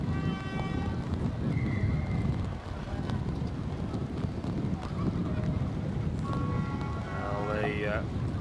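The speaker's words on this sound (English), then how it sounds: "I think that strong wind has taken the ball up forward." Strong wind sweeps across a rugby field during an Oceania Sevens 2024 semifinal between Samoa and Tonga, creating a loud, constant buffeting rumble that lasts throughout.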